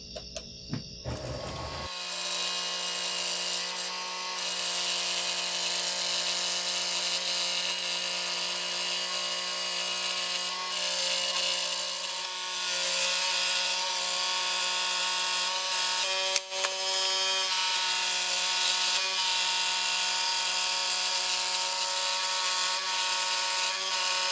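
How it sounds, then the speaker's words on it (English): A scroll saw cuts a small-diameter circle in wood, a steady buzzing drone with a rasping edge that runs loud and continuous for over twenty seconds after a brief start, with one short hitch near the end. "Myself, I'm going to be using a scroll saw."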